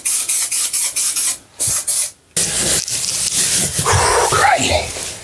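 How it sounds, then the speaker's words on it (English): Spray adhesive hisses onto insulation for a DIY van window cover in several short, loud bursts close by, separated by brief gaps, followed by rustling and handling noise. "Right, there's no more glue past here, so I'm going to have to spray."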